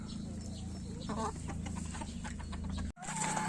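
Hens and young chickens clucking close by in a coop, with steady overlapping clucks and calls running throughout, one brief dropout near the end.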